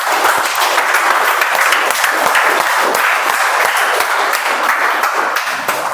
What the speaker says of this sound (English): Let's give a thunderous round of applause for the speaker